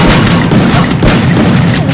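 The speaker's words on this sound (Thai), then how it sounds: "เอ้ยมันปาระเบิดมา" A grenade explodes in the video game Free Fire. The blast is very loud and close, a dense booming roar that fills the whole two seconds with a crackling rumble.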